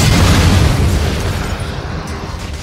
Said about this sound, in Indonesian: Seketika, sebuah ledakan terjadi